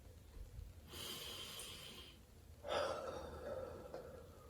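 A person takes a deep, slow breath in and then lets a long breath out, both close and clearly audible against a quiet background.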